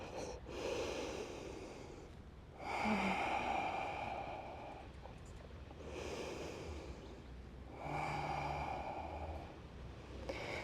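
Deep, slow yoga breaths during a power yoga session, long inhales and forceful exhales alternating in a steady rhythm of about four cycles, close and intimate with no talk.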